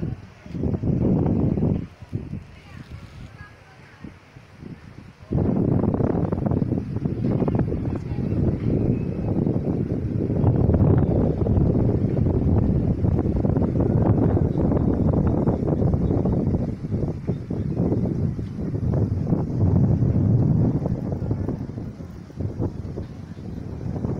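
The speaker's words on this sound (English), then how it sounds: "It's warm, but it's windy." Strong wind gusts blasting across the microphone outdoors in warm weather in Rome, a continuous heavy rumbling roar that eases briefly near the start, then holds steady and loud throughout.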